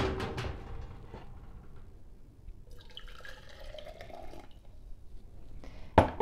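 Boiling water pours into a jar with a soft trickling and bubbling fill, then a sharp clink near the end.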